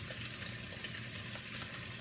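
Smoked sage breakfast sausage browning in a pan gives off a steady, even sizzle that continues without pause, with no voices over it.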